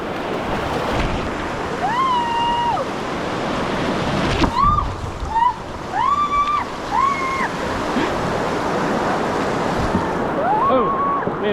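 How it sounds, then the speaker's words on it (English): Rushing river water and a waterfall on the Buffalo River keep up a steady broadband roar, with wind buffeting the microphone and a few bird calls above it. "there's a waterfall behind me"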